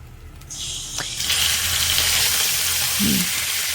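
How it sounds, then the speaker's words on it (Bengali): Rohu fish pieces fry in a pan with a loud, steady sizzle and hiss that swells after a clink, with a small rattle partway through. "মাথাটাকে আমি একটু এপিট ওপিট করে ভেজে নেব, বারবার এপিট ওপিট করে ভেজে নেব"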